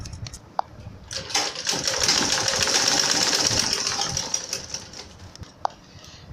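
A sewing machine stitches pillow fabric for a rose-shaped throw pillow, a fast, even mechanical whirring hum that builds, holds for a few seconds and slows, with small clicks at the start and end.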